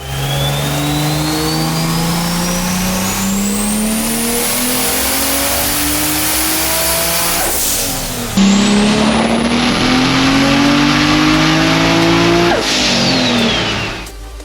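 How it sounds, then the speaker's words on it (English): Toyota Supra MK3 with a 2JZ-GTE engine revving hard on a dyno, running low boost around 16 psi: two long, loud full pulls with rising pitch, each winding up and then dropping off, with no talking. "Right away, we kicked off the dyno session in the 400 range."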